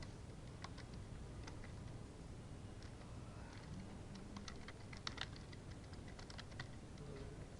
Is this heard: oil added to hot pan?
no